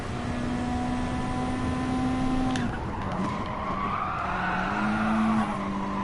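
A race car engine held at full throttle in a racing video game, a loud, sustained engine note around Tsukuba Circuit that drops at a gear change, then climbs again alone with no talk.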